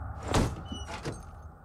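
Doors in the video game Dying Light 2 give two quick sliding, rattling bursts over a low ambient drone, close and moderately loud.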